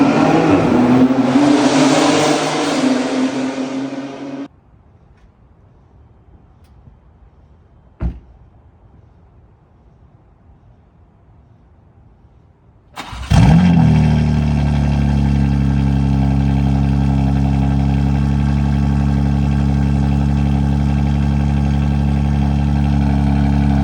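A BMW G80 M3 fitted with 3.5-inch downpipes roars loudly, falls silent after a few seconds, then fires up with a sharp bark and settles into a deep, steady idle close by.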